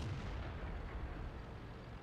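A tank cannon firing in World of Tanks, a dense, sustained low boom and rumble lasting a couple of seconds, fairly faint and without voices.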